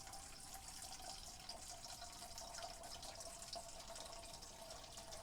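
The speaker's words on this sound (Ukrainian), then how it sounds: "Бля, звук води просто імба." Water running in a late-night video game, a steady trickling, faucet-like flow with faint drips, continuous and moderately quiet throughout.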